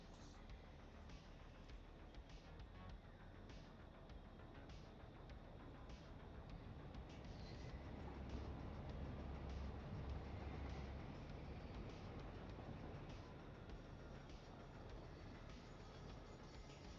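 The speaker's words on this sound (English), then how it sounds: "Two trains running." Trains roll steadily in the Satisfactory factory-building game, a continuous low rumble with faint rhythmic clicking that swells slightly midway, with no voices over it.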